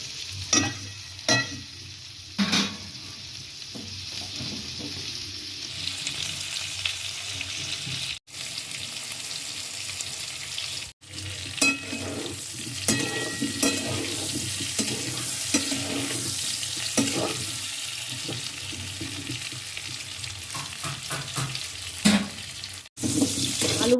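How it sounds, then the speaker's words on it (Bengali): Potato pieces sizzle in hot oil in a kadai for an egg curry, with a steady frying hiss broken by repeated scraping and clatter as they are stirred and turned over, and no talk. "এবার আলুগুলো আমি উল্টে পাল্টে ভালো করে ভেজে নেব।"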